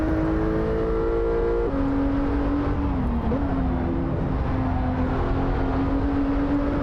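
A Singer 911 engine in the Assetto Corsa racing game, revving steadily and holding a continuous tone with a gear change partway through, loud and close with no voices.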